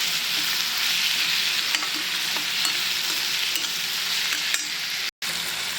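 Tomato chutney with chili powder sautés and sizzles in a hot pan, a loud, steady crackling fry with occasional scrapes of stirring and one brief dropout.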